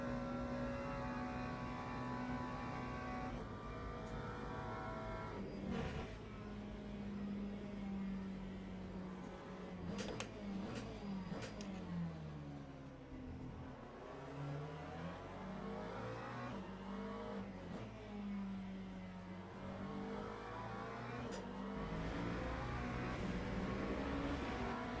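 A Mercedes race car at the Paul Ricard circuit, engine note rising and falling as it accelerates and shifts, loud and sustained over the whole stretch with a swooping pass near the middle.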